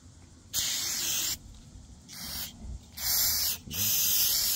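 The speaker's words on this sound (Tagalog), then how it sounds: "Meron tayong pang spray. Carb choke cleaner." Carb choke cleaner sprayed onto the carburetor of a Toro Recycler 22-inch Model 20065 lawn mower: four loud, close hissing bursts of varying length with short pauses between, and no voices.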